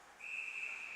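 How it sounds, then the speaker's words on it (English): A referee's whistle sounds at a college ice hockey game between North Dakota and The Kings: one sharp, steady blast about a second long, heard on its own. "Whistle."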